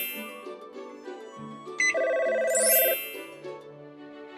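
A phone rings in a children's lift safety game, a bright synthetic ringtone with a sustained electronic melody rising over light game music, clear and close, with no voices.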